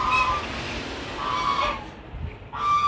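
Geese honk loudly and close by, with several harsh, nasal calls overlapping in quick succession and then a brief lull before another burst of honking.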